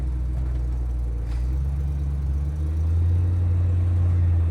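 A 1948 Plymouth streetrod with a boosted engine idles steadily up close, a deep, even rumble that shifts slightly lower and louder partway through, with no talking over it.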